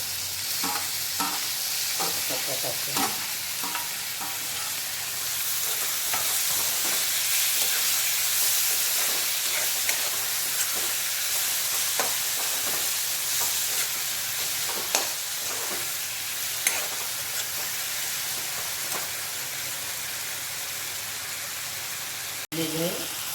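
Onions and tomatoes with turmeric frying in a pan for baingan bharta, a steady loud sizzle with repeated scrapes and knocks of a stirring spoon throughout, close by, with a voice speaking at times.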